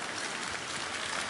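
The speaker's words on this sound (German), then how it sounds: "Applaus, gut." A brief, faint wash of applause at an Advent sing-along concert, a soft, even texture of many hands clapping at a distance.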